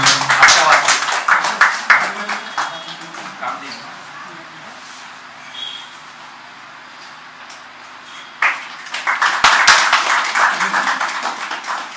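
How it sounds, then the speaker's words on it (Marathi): An audience claps at an award ceremony for entrepreneurs, with bursts of dense clapping at the start and again near the end, separated by a quieter stretch of room noise. "जोरदार टाळ्या वाजवा त्याच्यासाठी"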